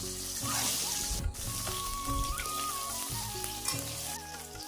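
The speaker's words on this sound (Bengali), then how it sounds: "তেলের মধ্যে ডিমগুলো একটু ভেজে নেবো লাল লাল করে" Boiled eggs fry in hot oil until browned. A dense, loud sizzle with crackling spits carries on without a break, and a faint tonal hum sits underneath.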